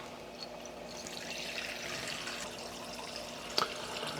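Water is poured into a pot of Jamaican oxtails on a high flame, a soft continuous trickling and splashing heard fairly quietly, ending with a small clink.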